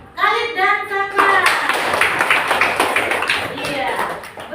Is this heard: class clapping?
yes